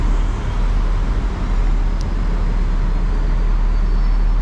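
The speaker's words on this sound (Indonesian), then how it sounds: "Panjang busnya ya. Saya suka bus yang panjang ini." Heavy Jakarta street traffic with long Transjakarta buses going by, a continuous loud rumble of engines and tires close at hand, with no talking.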